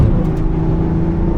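A BMW M140i's engine pulls hard as the car accelerates on the road, a steady, loud, full-bodied drone with a faint whirring edge and no voices over it.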